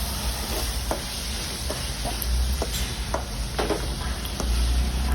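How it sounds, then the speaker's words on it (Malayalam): Two large onions sauté in a pan for a Tamil Nadu dry fish thokku, giving a steady close sizzle broken by scraping stirs at irregular intervals, with no talking. "അപ്പോൾ ഇത് നല്ലപോലെ ഓണിയൻ നമുക്ക് സവോള നല്ലപോലെ വഴറ്റിയെടുക്കണം."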